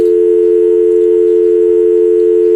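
A steady, unbroken telephone dial tone hums loud and clear on its own while a phone call is being placed, holding one even pitch throughout.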